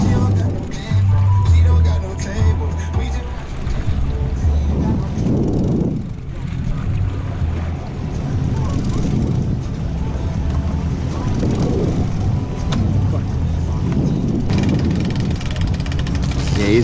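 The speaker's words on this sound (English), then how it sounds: "Get out of gear this motor, Matt." A fishing boat motor runs at trolling speed on open water, a steady low drone mixed with wind buffeting the microphone while people talk over it.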